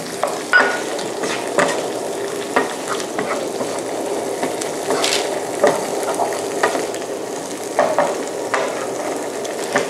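Eggplant stir-fries in green curry, a dense, loud, continuous sizzle close by, broken by repeated scraping and clacking strokes of a spatula against the pan, with no talking.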